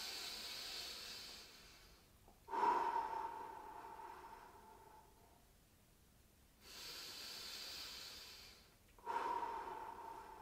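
Slow, deep breaths during a gentle seated stretching exercise, close and soft, with long airy inhales and exhales rising and falling in an unhurried rhythm.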